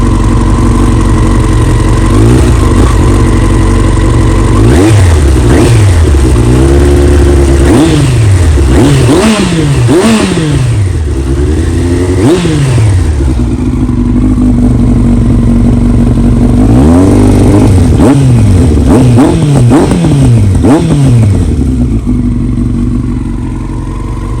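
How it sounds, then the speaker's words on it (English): A nearby Yamaha R1 motorcycle engine idles loudly while repeated sharp throttle blips make its pitch swoop up and fall back again and again. "Start up the bike. See, it idles perfectly."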